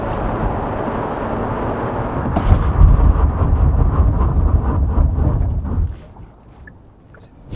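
A 2.2-liter diesel Genesis G80 brakes hard on a cold, snowy day, with loud, steady road and engine rumble that suddenly drops away to near quiet as the car comes to a stop.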